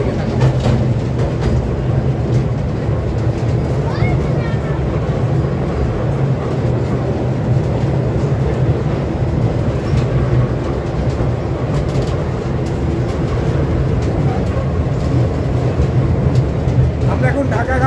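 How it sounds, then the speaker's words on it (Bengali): Passenger train bound for Dhaka ridden from inside the carriage, a loud steady low rumble and rattle of the rolling coach running throughout, with people talking beneath it. "আমরা এখন ঢাকাগামী ট্রেনে চড়ছি"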